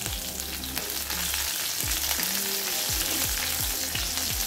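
Green chillies fry in hot oil with spluttering mustard seeds and cumin, a steady close crackle and sizzle with no voices over it.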